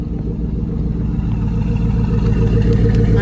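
A car engine idles after being started with its dead fuel pump bypassed, a loud, close, steady low rumble with an even rhythmic chug and no voices.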